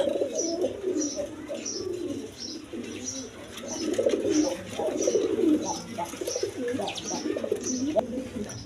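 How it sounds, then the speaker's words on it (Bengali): Pigeons bred for sale coo in low, repeated throaty phrases, several birds overlapping close by, with high chirps ticking along regularly above them. "দেখেন কোয়ালিটি সম্পন্ন কবুতর"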